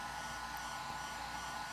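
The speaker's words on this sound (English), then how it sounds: "I hit it with heat from a hairdryer." A hair dryer blows hot air onto the plastic bezel of a Power Macintosh 8500, a steady, close, broadband whoosh with a constant hum that runs unbroken throughout, with no talk.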